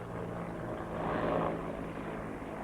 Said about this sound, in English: No runways at all for the Bell Cobra.